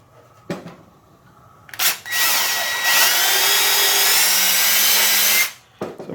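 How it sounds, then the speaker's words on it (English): A power drill with a number 9 bit, boring holes for a 10-32 fastener, revs briefly, then runs loud and steady for several seconds, its pitch shifting slightly as it bores, before stopping abruptly with a few clicks after. "I'm just drilling with a number 9 bit for a 1032 fastener"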